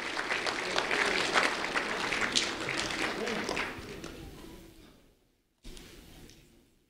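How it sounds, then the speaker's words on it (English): A crowd at a civic recognition event applauds a fifth-grade student, steady clapping for about four seconds that fades out, with a brief burst of noise after a short silence. "A round of applause for Anthony Assad,"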